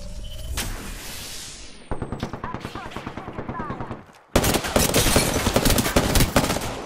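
Gunfire in a battle royale video game: rapid automatic bursts and repeated single shots in loud, close volleys, broken by short pauses, then a dense burst of firing near the end.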